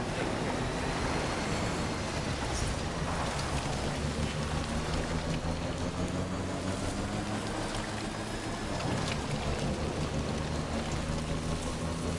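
Steady, dense rain falls in the video game Death Stranding 2, a continuous loud downpour spattering on surfaces with no talk over it.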